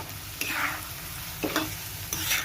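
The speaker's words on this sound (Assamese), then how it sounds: "এনেকৈ চিৰাখিনি, গোটেই চিৰাখিনি ভাজি ল'ব" Soft sizzling of flattened rice puffing up as it fries in oil, with three bursts of scraping as a spatula stirs the pan.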